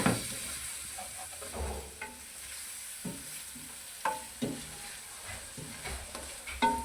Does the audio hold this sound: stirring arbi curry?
yes